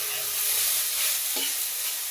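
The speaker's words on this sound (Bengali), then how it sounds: "এখন নামিয়ে নেব ভেন্ডি ভাজিগুলো" Okra (bhindi) frying in a pan, a dense, close sizzle running throughout with a brief scrape of stirring partway through.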